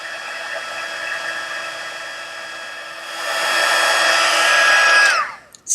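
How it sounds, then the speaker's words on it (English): A Stampin' Up heat tool blows a steady, close whirring hiss while melting embossing powder on a snowman ornament tag card, growing louder partway through and then cutting off abruptly near the end. "now we're taking the Stampin' Up heat tool and we're going to melt this powder"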